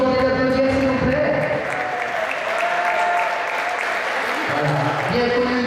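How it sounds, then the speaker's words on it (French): Audience applause at a boxing event in Bourg, a steady loud wash of clapping filling the room for several seconds, with tonal music or voices running underneath and a brief lull before the clapping swells again. "je vous demande d'applaudir, s'il vous plaît"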